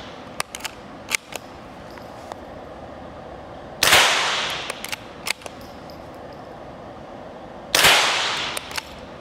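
A Remington Model 511 Scoremaster .22 target rifle fires two sharp, loud shots several seconds apart, with lighter mechanical clicks of the bolt working between them and no talk.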